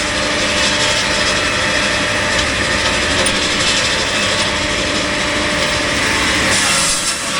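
A Palax C750.2 firewood processor cuts through a log, producing a loud, continuous, dense mechanical roar of engine and saw that stays even throughout, with no voices.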